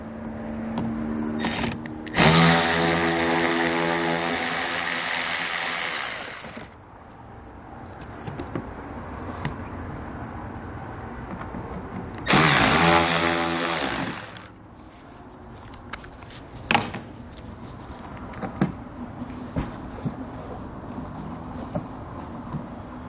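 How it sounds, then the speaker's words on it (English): A power driver fitted with a T15 Torx bit removes fasteners on a 2017 Cadillac CTS during a trailer hitch install, giving two loud, close whirring bursts, a long one and then a shorter one, with quiet handling noise between them. "I'm going to use a T15 Torx bit to get those removed"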